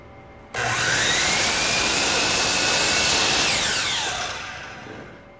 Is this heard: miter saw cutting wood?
yes